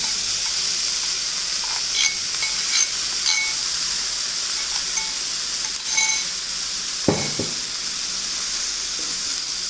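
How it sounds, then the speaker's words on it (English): Boiled vegetables tipped into a hot pan for stuffed idli filling, a constant sizzle with scattered clinks and stirring scrapes and a thud partway through, close and with no speech. "now add boiled vegetables to it"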